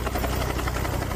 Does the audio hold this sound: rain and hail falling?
no